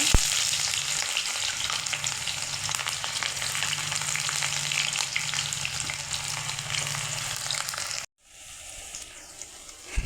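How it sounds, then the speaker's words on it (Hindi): Onions frying in hot oil for mutton kasha, a steady close sizzle and crackle that runs continuously, cutting out briefly near the end before resuming more quietly. "देखंतु तेलटा टिके गरम हो गला। पकेबा पियाज।"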